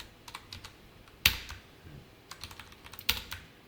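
Keys on a computer keyboard are tapped in short, quick bursts of soft clicks, with two louder sharp key strikes standing out, close and quiet, with no talking.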